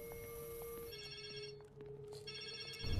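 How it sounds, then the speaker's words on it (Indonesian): A telephone rings repeatedly in a scene from the 2004 film Resident Evil: Apocalypse, its electronic trilling tones steady and clear over a low background hum, briefly dropping out before resuming. "Terdengar suara telepon di dekat mereka."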